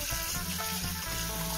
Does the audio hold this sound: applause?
no